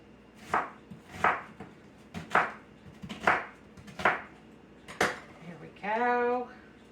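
Knife chopping onion into half-moon slices on a board, six sharp, evenly spaced cuts ringing close by, followed by a brief scraping sound at the end.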